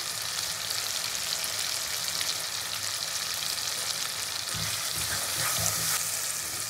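Onion and tomato fry in a pan with turmeric and other ground spices, giving a dense, steady close-up sizzle that runs unbroken throughout with a few soft stirring knocks near the end.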